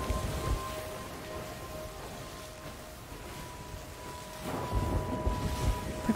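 A thunderstorm with rain at sea in the video game Sea of Thieves: a soft, steady rain hiss with a low rumble of thunder swelling near the end, over a faint steady hum.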